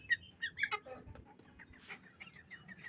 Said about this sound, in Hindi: देखिए जी हमारे सिल्कीज टर्कीज और ये सील यहाँ पे आ गया